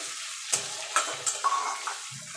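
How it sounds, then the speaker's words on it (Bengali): A small onion fries in hot oil with black cumin, garlic and chillies, a bright sizzle broken by several quick spatula scrapes and stirring knocks, close and fairly loud with no talking. "পেঁয়াজটা একটুখানি ভাজা ভাজা করে নেব।"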